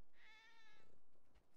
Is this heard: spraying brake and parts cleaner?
no